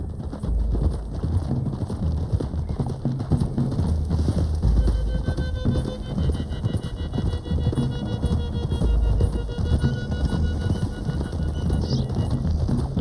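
Horses galloping on a trail in Red Dead Redemption 2, a dense, continuous drumming of hooves close by, with bird calls and faint whinnies in the background.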